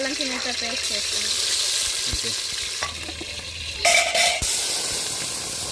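Oil heated in a pan for chicken curry sizzles steadily as food is stirred, with a few scraping clanks and clatter nearby, and a voice briefly at the start.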